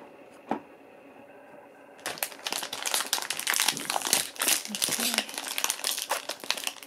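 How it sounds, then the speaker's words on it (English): Plastic blind-bag packaging for Sonny Angel animal figures is torn open and crinkled close up, a dense run of sharp crackling rustles after a brief quiet start with a single tap. "I almost wish I didn't have to rip the bags."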